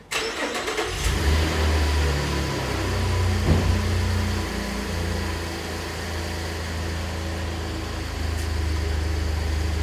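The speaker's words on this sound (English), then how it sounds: "So I'm gonna go ahead and start my truck" A truck engine cranks and catches almost immediately, then settles into a steady, close idle with a brief rev, while cables hook it to a car with a weak battery for a jump start.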